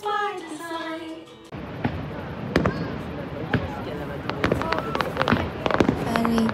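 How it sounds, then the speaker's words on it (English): Fireworks over Niagara Falls go off as scattered sharp bangs and crackling pops at a distance, under steady crowd noise, after a few seconds of singing from a voice nearby. "we got to see the Niagara Falls firework"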